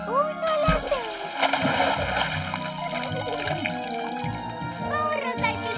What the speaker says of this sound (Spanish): ¡Burro salpicar! ¡Burro salpicar!